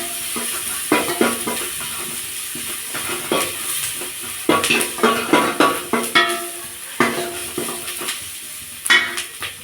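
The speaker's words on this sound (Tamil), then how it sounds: "சின்ன வெங்காயம் தான் நம்ம கட் பண்ணி போட்டிருக்கோம்" Small shallot onions sauté in hot oil in a pan for fish curry, with a steady sizzle and repeated spatula stirring and scraping strokes close up, no talking.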